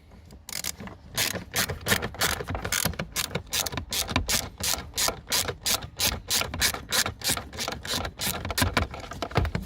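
A ratchet on a long extension loosens a T20 Torx screw behind a VW Tiguan Mk2 heater blower motor, giving a fast, steady run of close, loud clicking that keeps going for several seconds with no voices.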